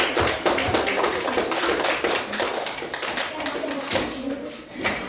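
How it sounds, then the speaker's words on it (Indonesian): A classroom of students claps for group 4 after their presentation, a lively burst of many hands with voices mixed in. "tepuk tangan"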